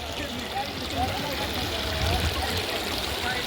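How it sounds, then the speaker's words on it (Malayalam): Chalakudy river water running through many channels and gaps between rocks, a continuous close rushing and gurgling flow at steady level with no pauses. "പല ചാലുകളായിട്ട് പല പാറ ഇടുക്കുകളിലൂടെ സുഖമായിട്ട് ഒഴുകിക്കൊണ്ടിരിക്കുന്ന ഒരു"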